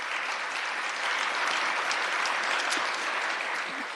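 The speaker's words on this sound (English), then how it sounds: "Please give them a round of applause." An audience at a city council meeting gives sustained, even applause for a string ensemble of violin, viola and cello players, a continuous moderately distant wash of clapping.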